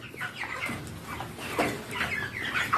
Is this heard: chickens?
yes